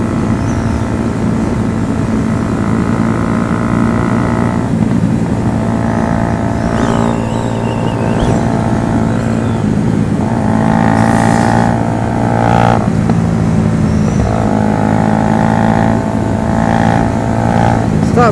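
A car with a loud exhaust holds a steady, droning rumble that swells and eases a few times as it revs, close and continuous throughout.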